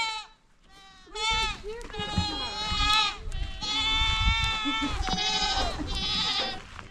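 Kiko goats bleat repeatedly in long, wavering cries, several animals overlapping close by, with some low rustling beneath.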